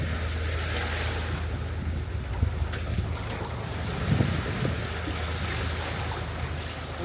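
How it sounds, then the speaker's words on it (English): A sailboat motor sailing through open water, with a continuous low engine drone beneath rushing wind, splashing hull wash and heavy wind buffeting on the microphone, no voices. "Because we're motor sailing."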